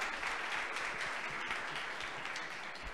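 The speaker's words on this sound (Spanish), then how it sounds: "por favor, recíbanme con un aplauso a Tatiana" An audience at a Women in Data Science event claps to welcome the next speaker, a dense, even wash of applause that continues throughout and eases off slightly near the end.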